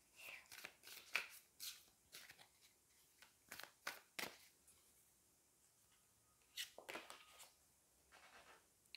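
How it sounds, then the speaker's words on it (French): Tarot cards are drawn and handled from a deck, with a run of quick, close papery flicks and slaps, a pause, then a few more, under faint quiet speech. "Je vais aller prendre une carte ici et ici."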